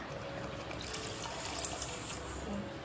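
Water is poured into a pot of tomato rice while it cooks, a steady soft splashing pour that runs evenly throughout, quiet and close.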